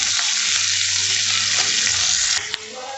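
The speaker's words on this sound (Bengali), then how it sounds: "পেঁয়াজটা ভাজা হতে থাক" Steady, loud sizzling of onions frying in a pan, a continuous broadband hiss with a few light stirring clicks near the end.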